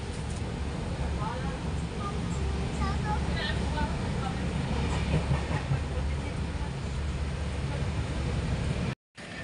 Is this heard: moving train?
yes